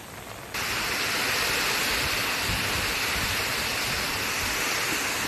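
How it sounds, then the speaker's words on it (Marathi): Heavy rain pouring over the Koyna dam catchment in the Satara ghats, a dense, loud, steady roar like rushing water that swells up after a brief quieter start and continues unbroken. "कोयना धरण पाणलोट क्षेत्रात मुसळधार पाऊस आहे।"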